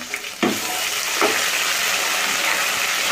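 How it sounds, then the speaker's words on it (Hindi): Garlic and ginger paste frying in a pan gives a steady hiss and sizzle, with a couple of soft stirring scrapes near the start and no talking. "लहसुन अदरक का पेस्ट हम अच्छी तरह से इसको भूनेंगे"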